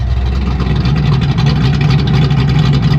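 A Ford Mustang Foxbody exhaust rumbles loud and deep at idle with its active exhaust valve open, a throaty, pulsing burble that holds steady throughout.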